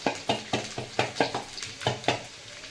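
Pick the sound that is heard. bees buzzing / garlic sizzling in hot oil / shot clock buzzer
garlic sizzling in hot oil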